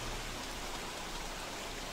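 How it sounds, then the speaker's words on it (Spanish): Rain falling in the video game Don't Starve Together: a steady, even hiss of downpour, moderately loud and continuous, with no voices. "Que justo, justo empiezan a llover."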